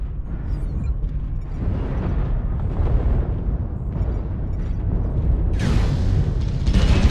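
A missile explosion in a mech combat video game, heard as a continuous deep rumbling boom that keeps going throughout, with a brighter burst of debris noise near the end, loud and close with no talk.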